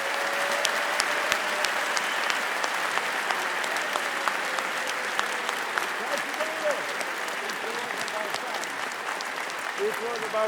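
An audience at a music awards gala claps in a sustained, dense burst of applause welcoming a performer to the stage, steady throughout with a little crowd murmur.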